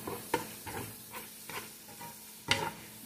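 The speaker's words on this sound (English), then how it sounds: "I'm just going to continue on stirring this up for about, probably let it cook about another 5 minutes" Beef taco meat cooking in a pan: a utensil scrapes and stirs in repeated strokes over a steady low sizzle, with a sharper clack near the end.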